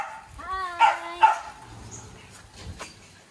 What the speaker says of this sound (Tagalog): Maraming guard bahay niya. Yun yung aso niya.